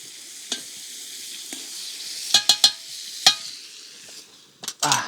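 A spoon stirs an eggplant and meat dish, Crimean Tatar etli patlıcan, in a pot: soft bubbling sizzle underneath and several sharp metallic clicks and taps against the pot, some grouped close together.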